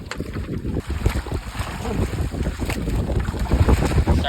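Strong wind gusts at sea roar across the open deck of a small fishing boat as night falls during net fishing, with steady rough buffeting and rushing noise close to the microphone and no talk.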